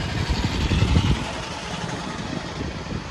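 A motorcycle runs on a city street, its engine a close, rough mid-pitched rumble that pulses slightly in the first second and then settles into a steady hum.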